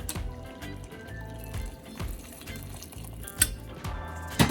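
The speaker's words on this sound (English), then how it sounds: "Right here now I'm gonna add some water to cook my seasoning." Hot boiling water pours into a pot of Jamaican curry goat, a faint liquid trickle and splash under rhythmic low pulsing, with metallic clinks of pot and utensils near the end.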